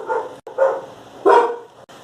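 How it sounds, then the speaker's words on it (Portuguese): A dog barks three times in quick succession, fairly close and loud, with short gaps between the barks and no talk over them. "Opa, o cachorro latiu."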